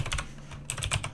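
Close, crisp computer keyboard clicks rattle in a brief quick burst as code is typed into Visual Studio, several keystrokes in uneven succession with no talking.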